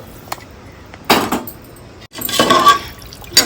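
Water poured from a glass into tomato rice in a pressure cooker, two short splashy bursts of pouring with a brief gap between them, close and fairly loud, with no talking.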